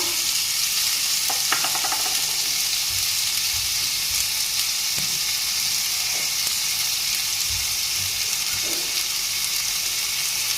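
Ginger paste fries in a pan with cumin paste for a chital fish curry. A constant loud sizzle fills the scene while a spoon stirs, adding occasional soft scrapes and knocks.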